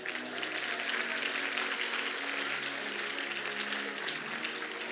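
An audience at a keynote speech on leadership applauds in a soft, even burst of clapping that carries through without a break, heard from a distance.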